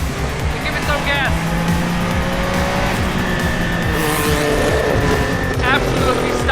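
A Porsche Group C race car accelerates with a loud, continuous engine roar, its pitch rising and dropping through gear changes at close range.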